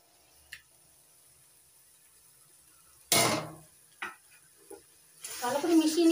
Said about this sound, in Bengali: ভালো করে মিশিয়ে নিচ্ছি সবকিছুর সঙ্গে